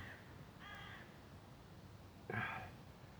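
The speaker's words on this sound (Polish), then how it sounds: "Wrony jeszcze żyją, to znaczy, że jeszcze świat nie zdechł." Crows caw outdoors, two harsh calls heard at moderate distance over a low background rumble, the second louder and closer than the first.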